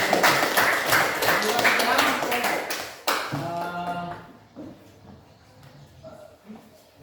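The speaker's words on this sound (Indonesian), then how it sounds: "beri tepuk tangan" Classroom applause from a group of students, dense clapping for about three seconds before fading out, followed by scattered voices and classroom shuffling.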